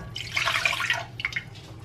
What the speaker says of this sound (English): So we pour that pecan milk that we have,